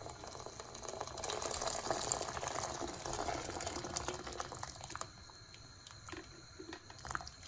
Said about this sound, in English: right now we are going to start off with by putting our boiling water into our pot